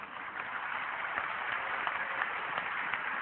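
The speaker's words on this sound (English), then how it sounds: "MashaAllah, you're clapping." Audience applauding at a religious lecture, a steady wash of many hands clapping, muffled and fairly faint, continuous with no voices heard.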